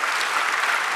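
A church congregation claps during a sermon, a brief, dense wash of steady applause.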